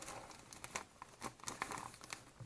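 Crinkling plastic of a vacuum sealer bag being handled and positioned, with irregular close-up crumpling rustles and soft patters throughout.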